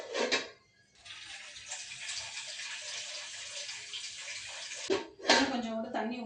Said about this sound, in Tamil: கொஞ்சம் கூட தண்ணி ஊற்றிக்கலாம்,